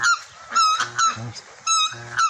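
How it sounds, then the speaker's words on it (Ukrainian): Loud, close honking calls of a black swan at an ostrich farm repeat in bursts with short pauses, a brassy, nasal trumpeting. "Так, вітається з нами. Чорний лебедь."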